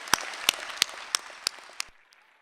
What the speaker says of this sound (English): I would like to conclude my remarks with a richly deserved round of applause for the members of today's graduating